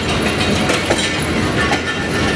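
The Karachi Express passenger train rolls along the tracks, a loud, continuous rumble of wheels and carriage rattle heard from on board, with no voices.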